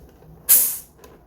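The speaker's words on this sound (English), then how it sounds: "once you remove the bottle, you should hear a little" A single short burst of gas hissing loudly as a bottle of homebrewed cider is released from a soda-maker, rising sharply and fading within about half a second, then quiet.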